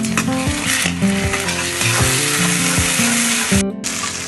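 Ginger garlic paste sautéing in a pan for a sarson ka saag dish, a loud close sizzle with stirring scrapes running continuously, no talk.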